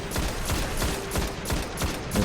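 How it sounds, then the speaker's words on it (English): Vision of Confluence full-auto scout rifle in Destiny firing a rapid, even string of sharp close shots, about four per second, with nothing else over it. "it's a pretty decent fire rate"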